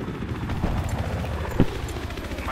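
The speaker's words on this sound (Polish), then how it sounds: "Helikopter nad nami lata." Helicopter passing overhead during a large conquest battle on Kharg Island in Battlefield 3, a steady broad rotor and engine roar filling the scene, with a brief thud partway through.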